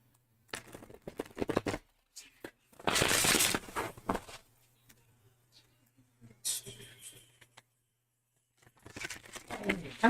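Tarot cards shuffled in several bursts of papery riffling and patter, close and fairly quiet, with pauses between and a soft low hum underneath.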